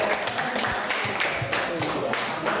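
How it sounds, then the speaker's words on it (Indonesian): A class applauding a student group that has just finished presenting, a short burst of scattered hand clapping from many people in a room, with some speech mixed in. "kita beri tepuk tangan yang meriah buat kelompok"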